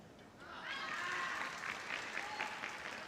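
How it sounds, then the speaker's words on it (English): Teammates cheer and clap for a competitor at a junior wushu championship, a brief, fairly faint burst of applause and shouts that swells and then holds steady. "His teammates cheering him on as he knows and they know as well that he's doing an amazing job."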